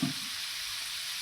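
Squid roast masala mix cooks in a hot oiled pan, a soft, even sizzle that keeps going for the whole short stretch after a brief low thump at the start.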